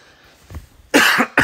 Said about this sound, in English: Get the cough out.